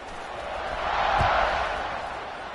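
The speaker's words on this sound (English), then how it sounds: "this crowd is buzzing after that last score." Stadium crowd in the College Football 26 video game buzzing after a score, a broad continuous roar that swells and fades slightly, with no distinct voices.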